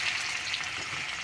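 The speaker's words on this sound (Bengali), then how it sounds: "আমি তেলের মধ্যে দিয়ে দিচ্ছি পেঁয়াজটা।" Chopped onion dropped into hot oil in a wok gives a dense, steady sizzle, close and continuous for a brief moment with no voices.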